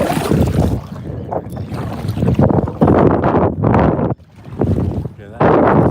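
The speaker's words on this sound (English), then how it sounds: "That's the sound you want to hear when you're paddleboarding." A paddleboard glides through shallow water while picking up speed, giving a steady washing and splashing rush with wind buffeting the microphone, close and fairly loud, with a brief dip near the end.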